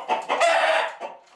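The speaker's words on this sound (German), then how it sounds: "Das ist die beschauliche Anzahl Hühner, die ich noch hab." Farm chickens clucking and calling close by, a short burst of several hen vocalizations in quick succession.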